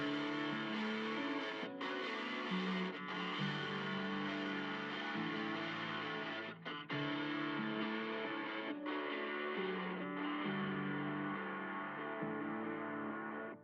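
Melodic layers of a hip-hop beat play together with no drums: sustained, effected synth and chord tones with shifting bass notes, dense and continuous, briefly dropping out at a few points.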